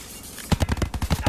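Rapid bursts of gunfire in a multiplayer video game, a quick run of loud, close shots starting about halfway through and repeating in an uneven rhythm.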